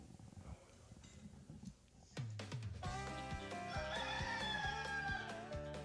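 A rooster crowing as part of the WHBN The Rooster radio station ident, a distant crow and clucking followed by an abrupt loud musical jingle.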